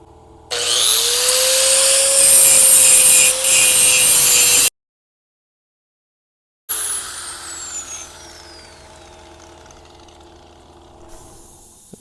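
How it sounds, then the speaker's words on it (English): An old grinding wheel grinds metal on a homemade trailer ramp: a loud, close, steady high whine for about four seconds, then silence, then a fading spin-down whir as it starts again and slows. "I'm gonna take this old grinding me wheel, and I'm gonna grind this off."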